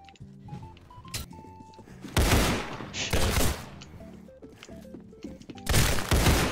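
Gunfire rings out in the Roblox game Criminality, with loud bursts of rapid shots in two or three clusters among quieter clicks and thuds, close and harsh.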